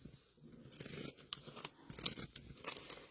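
Scissors snip through folded fabric pieces for a baby bib, a series of close, crisp crunching cuts in irregular rhythm.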